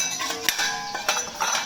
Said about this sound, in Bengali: একটা প্লেট নিয়ে নিই।